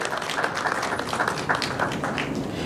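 A crowd at a conference on Mali's institutions and economic growth applauds the Prime Minister with dense, steady clapping at moderate volume and no speech over it.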